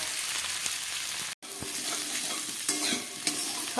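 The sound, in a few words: frying vegetables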